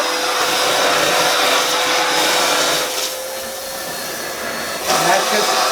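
Milwaukee 0885-20 cordless backpack vacuum runs with a steady broadband whoosh, close and loud, easing slightly midway and swelling again near the end as sawdust is picked up through the tube.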